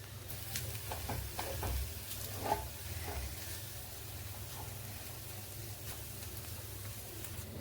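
Ingredients sizzling while being stir-fried and roasted in a pan, a soft continuous crackle with occasional stirring scrapes, close and fairly quiet.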